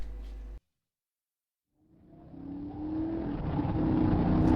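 A car engine in an audio drama: after a brief cut to silence, the engine fades in and builds steadily into a loud, sustained drive that rises in intensity and stays close.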